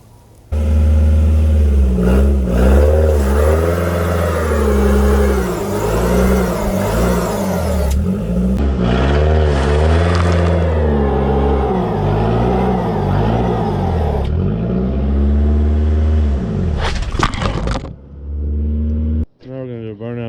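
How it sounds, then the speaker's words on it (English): A car engine revs hard during a burnout in a bucket of Orbeez, with repeated rising and falling revs and a loud, sustained roar that cuts off abruptly near the end. "So today we're going to do a burnout"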